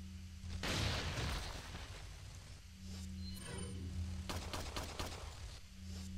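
Gunfire in Resident Evil 4, with an initial blast and then scattered quieter shots and a quick cluster of sharp reports later, heard faintly over a low steady game hum.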